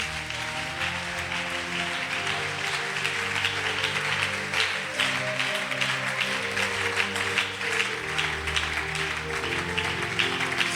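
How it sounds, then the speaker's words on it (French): A congregation at a Congolese church prophecy service applauds and cheers in praise of the Holy Spirit, steady sustained clapping and voices mixed with music throughout. "On acclame le Saint-Esprit."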